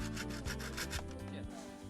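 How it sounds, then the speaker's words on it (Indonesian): A saw cuts through the stalk at the base of a sugar palm fruit bunch, close by, in a quick run of rhythmic rasping strokes, roughly six back-and-forth pulls. "Gergaji bagian pangkal tandan dan buah aren berhasil dipanen."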